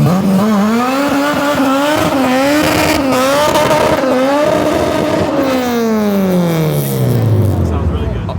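A supercharged K20A-powered Honda Civic EG hatchback revs hard during a burnout, engine pitch rising and falling in sweeps before winding down, loud and close, with tire noise and people talking over it.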